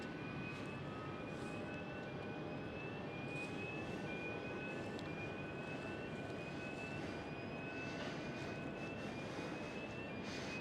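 A KLM Cityhopper Embraer E195-E2 jet at Amsterdam Schiphol airport gives a steady, moderately distant engine roar with a faint whine, holding level for about ten seconds.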